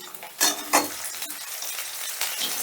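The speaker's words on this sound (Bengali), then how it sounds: "এবারে এই পেঁয়াজটাও হালকা করে ভেজে নেব" Chopped onion frying in a pan with a soft background sizzle, broken by a few close scrapes and clinks of a spatula stirring, with no voices.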